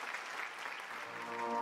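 An audience in a theatre hall applauds at a televised variety show, steady dense clapping held at an even level throughout, with faint tonal music beginning to rise underneath toward the end.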